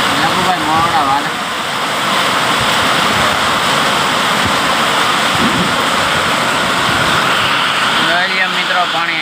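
Heavy monsoon rain pours onto a metal sheet roof in a loud, unbroken roar that stays dense and close for the whole stretch, without a pause.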